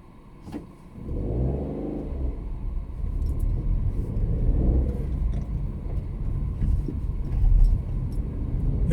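A car drives through Tampere, Finland, its engine rumbling low and steady, rising in two gentle swells of acceleration, with faint road noise and no talking.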